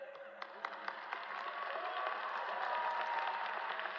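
Commencement crowd applauding, a steady wash of many hands with a few sharper claps early on, sustained and fairly distant, with voices faintly mixed in.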